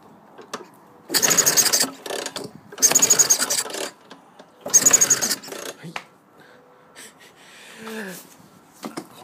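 A Vespa scooter being repaired is cranked over in three loud, rough starting bursts with pauses between, followed by quieter sputters and mechanical noises close by.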